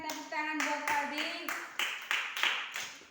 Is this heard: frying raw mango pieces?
no